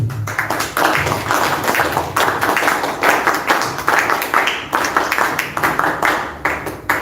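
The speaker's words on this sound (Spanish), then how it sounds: "para quien pido un fuerte aplauso" An audience at a political event applauds a speaker being introduced, a steady, loud, dense run of clapping that keeps going with small surges and no talking over it.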